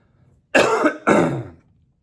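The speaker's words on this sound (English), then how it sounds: "Sorry, I've wanted to cough for like 30 minutes at least." Two harsh coughs in quick succession, close and loud, with silence before and after.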